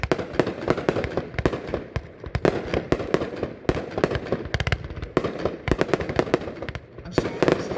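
A 500 gram Bad to the Bone firework cake fires a rapid string of sharp, loud shots with crackling bursts, sharp reports tumbling closely one after another for several seconds outdoors.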